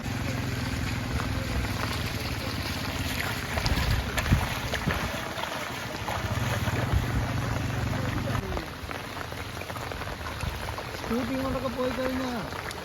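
Floodwater rushes continuously along a road with a broad, steady roar, mixed with rain-like hiss; faint voices and an engine hum come and go.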